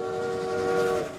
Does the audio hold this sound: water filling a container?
no